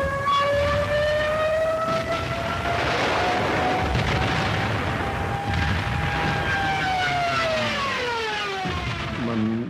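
A Stuka dive bomber's loud, wailing siren holds steady, then bends and drops in pitch toward the end as the aircraft dives, over a rumbling roar.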